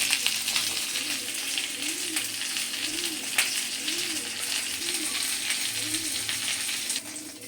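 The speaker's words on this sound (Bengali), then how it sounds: "মাছগুলো দিয়ে দিলাম" Shol fish pieces fry in hot oil, a continuous close sizzle with soft crackles and occasional bubbling pops, fairly even in loudness from start to finish.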